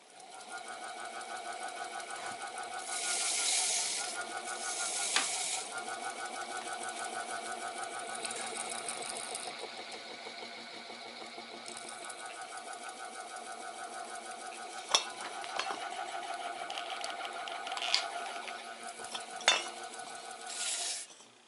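A steady mechanical whir with a rhythmic clicking hum from an Evergo/Canarm industrial ceiling fan running on rehabbed bearings, continuous with a few sharp ticks and clinks near the end.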